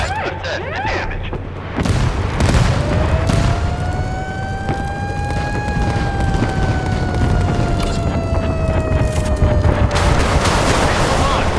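Naval combat in the warship game Force of Warships, with dense booming gunfire and explosions packed together and a rising whine of a missile or shell flying overhead; a radio-style voice speaks over the battle.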